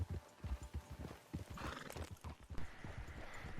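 Steady clip-clop of horse hooves trotting in Red Dead Redemption 2, with a horse whinnying partway through; moderately quiet and even in rhythm.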